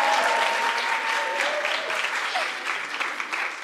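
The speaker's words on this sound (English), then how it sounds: "Give him a round of applause." Steady, fairly close applause from the audience at a university drama awards ceremony, a dense continuous patter of clapping with a faint voice briefly audible beneath it.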